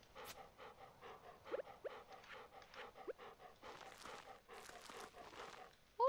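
A dog in the farming video game Stardew Valley pants in quick rhythmic breaths, faint and steady, with a few small squeaky game sounds scattered through and a louder blip at the end.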